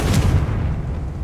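A single deep, rumbling explosive burst from the Confringo spell in a video game swells and slowly decays over a little over a second, loud and close with no voices.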